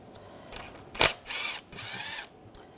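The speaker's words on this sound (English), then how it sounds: "Using a E10 socket, we're going to take some of these bolts out." An E10 socket works bolts loose on a 3.5L V6 engine of a 2006-2009 Mercedes-Benz E350, a faint clack followed by short bursts of ratcheting clicks close up.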